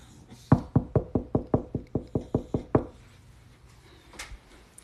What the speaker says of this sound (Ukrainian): як постукаєш.